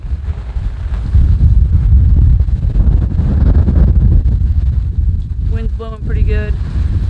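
Strong hurricane wind from Hurricane Sally buffets the microphone aboard an Island Packet sailboat, a loud, low, continuous rumbling roar, with a brief burst of voice near the end.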